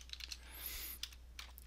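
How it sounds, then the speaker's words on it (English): Typing on a computer keyboard, with rapid, fairly faint key clicks in short irregular bursts and a brief hiss partway through, over a low steady hum. "I'll stop right there because I don't really want to do any more typing."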